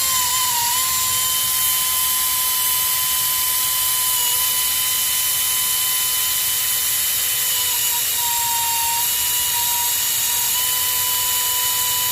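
A power tool tightening the bolts of a new belt tensioner pulley on a Ford Ranger, a continuous high whine with a steady tonal hum, fairly loud and unbroken throughout, with no one speaking.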